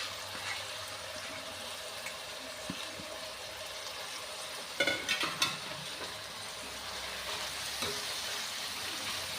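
Chopped spinach being stirred into spices in a frying pan, giving a steady soft sizzle with gentle scraping turns of the spoon and a brief cluster of sharper clatters midway.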